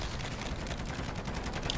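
Rapid automatic turret fire in the MW3 Zombies game rattles continuously and fairly densely, a steady stream of sharp shots with no pauses.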